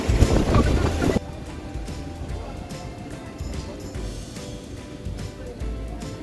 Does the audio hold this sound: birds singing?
no